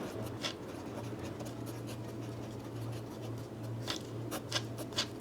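Pen scratching steadily across paper while a math solution is written out by hand, with soft continuous strokes and a few sharper ticks near the end, a low electrical hum underneath and no talking.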